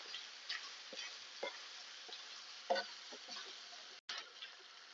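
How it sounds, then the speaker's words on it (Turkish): Soft crackling sizzle from a pan of vegetables and spices sautéing for chicken sauté, with faint scattered ticks and light stirring clicks, steady and fairly quiet throughout. "Baharatlarımla da güzelce kavuruyorum."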